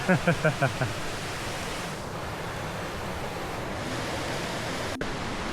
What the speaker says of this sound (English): Seems like we arrived at the Mae Sa Waterfalls.